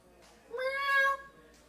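A single drawn-out meow imitated by a human voice at a poetry open mic, rising then falling, fairly close and clear against a quiet background.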